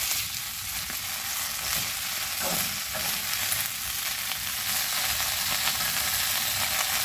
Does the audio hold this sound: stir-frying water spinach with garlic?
yes